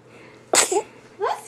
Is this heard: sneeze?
yes